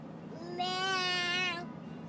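A baby imitates a cat's meow with a single drawn-out, high, tonal meow lasting about a second, close and fairly quiet, alone without other talk.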